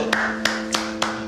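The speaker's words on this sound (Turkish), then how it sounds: "Seni ayakta alkışlıyorum" A single person claps slowly and deliberately, five sharp isolated claps spaced about a third of a second apart, close and alone over a steady low hum.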